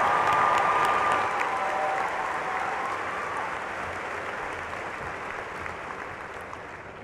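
A crowd applauds a graduate at a university fall commencement ceremony. The clapping is steady and moderately loud at first, then slowly fades and thins.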